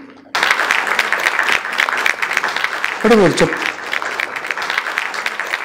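Audience applause at a panel discussion on the Kannada TV serial Mayamruga: dense, steady clapping from a crowd that starts abruptly and carries on throughout, with a voice speaking over it.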